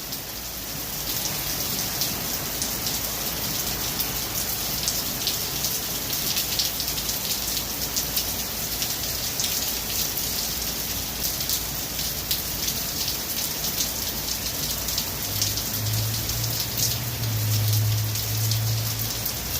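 Heavy rain pours steadily over a downtown street in North Bay, a dense, even hiss of drops on surfaces with a low rumble rising near the end.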